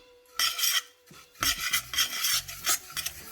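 A spoon scrapes and rubs through coconut and jaggery in a hot kadhai, off the heat, in short gritty strokes: a brief pause, then a run of rhythmic rasping close by with no talking.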